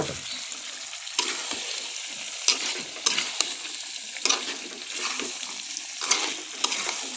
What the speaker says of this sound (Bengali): ভাজা মুরগির মাংস, ভাজা আলু একসাথে দুটোটা দিয়ে দিব।